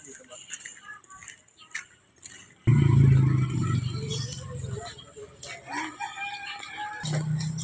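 A rooster crows and chickens cluck close by at a place where poultry is sold, the crow bursting in loudly partway through over a busy outdoor background with scattered noises.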